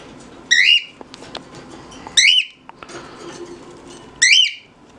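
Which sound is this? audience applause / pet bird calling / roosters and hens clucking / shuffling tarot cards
pet bird calling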